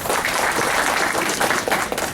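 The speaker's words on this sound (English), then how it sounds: "I tell you why people are clapping." An audience claps steadily and continuously at a community event in Los Angeles, a dense, fairly loud patter with no talking over it.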